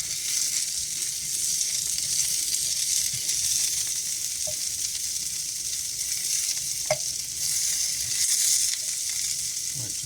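Mushrooms and sourdough bread fry in a cast-iron skillet with a steady, broad sizzle that fills the whole stretch, broken by a few faint clicks and scrapes of turning the food.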